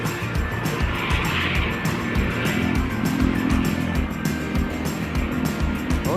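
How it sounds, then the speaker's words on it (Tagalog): A car passes close by on a road during a storm, its engine and tire noise forming a loud, continuous rumble with rhythmic pulsing throughout. "May sasakyan kasi."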